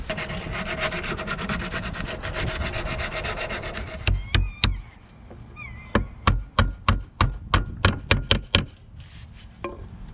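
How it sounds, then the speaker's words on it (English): The sharp edges of a 16 mm ratline notch that fits around a shroud are sanded during a boat restoration: continuous close rubbing at first, then a regular series of about a dozen distinct, loud back-and-forth strokes. No voice. "So all I'm going to do now is just sand off these sharp edges."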